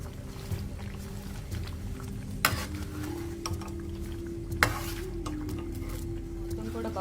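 Chicken pickle masala with red chilli powder is stirred and fried in a pan, giving a low steady sizzle broken by several sharp spoon scrapes and knocks against the metal.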